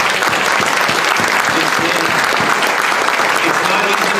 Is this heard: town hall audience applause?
yes